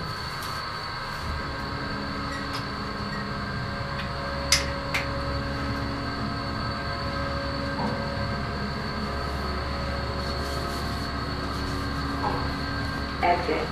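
A modified hydraulic platform elevator at the Rosslyn Metro Station in Arlington, Virginia, runs with a steady low mechanical hum and drone, with faint clicks and a brief sharp knock partway through, and a voice speaking faintly in the background.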